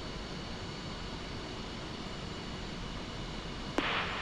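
In the DCS flight simulator, an F-5E jet engine turns over with help from external compressed air. A steady low rumble and hiss builds, then a brief louder surge comes near the end, with no talk.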